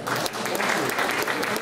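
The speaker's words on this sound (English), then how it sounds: "Everyone's clapping." Audience clapping at a Tu B'Shvat seder and birthday celebration, a brief, steady patter of many hands in a room with no gaps.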